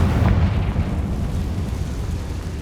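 Confringo explosion spell in the video game Hogwarts Legacy, a short, deep booming burst that rumbles and fades over a couple of seconds.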